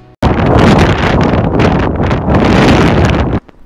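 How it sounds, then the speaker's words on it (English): Strong wind buffets the microphone at a coastal lookout near Sydney, a loud continuous roar that starts and stops abruptly and runs for about three seconds with no talk. "I just want to emphasize how windy this was."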